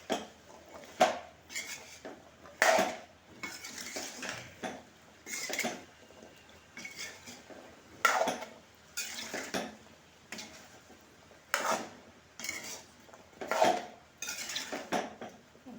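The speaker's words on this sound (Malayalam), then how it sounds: "ഇതൊന്നും കൂടി നമ്മൾ ഇളക്കാം നന്നായിട്ട് ഇളക്കാം" A spoon scrapes and clinks against a metal pot as curry with neem leaves and garlic is stirred. The bursts are irregular and close by, with short pauses in between.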